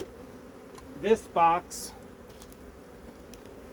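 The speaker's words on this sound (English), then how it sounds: "it's got a fair number of bees, and they are certainly traipsing through here" Honey bees in a hive brood box during a spring check hum steadily in the background while a voice speaks a brief phrase over the buzzing.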